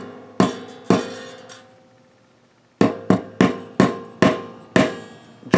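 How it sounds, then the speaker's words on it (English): A hammer strikes a threaded bridge insert back into the body of an 1980s Kramer XL II guitar: sharp, ringing metallic taps, two at first, then a pause and a steady run of about eight more close blows. "So I have to get this hammer and beat this back in there."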